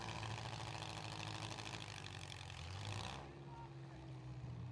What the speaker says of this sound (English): Still running on all 8 cylinders, while Fuller sounds to be running on about 6.